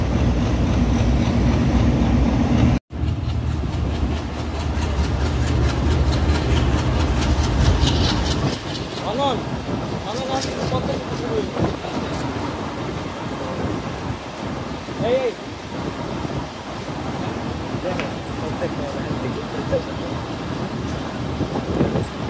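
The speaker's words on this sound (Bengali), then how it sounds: "আমাদের ট্রেনটি এখন মাওয়া রেল স্টেশনের 1 নম্বর প্ল্যাটফর্মের 1 নম্বর রেলপথ থেকে এখন মেন লাইনে যাচ্ছে" A Bhanga commuter train pulls out of Mawa railway station toward the Padma Bridge, moving from the platform line onto the main line with a loud, steady rolling rumble and scattered rattles that carry on throughout, briefly cutting out near the start.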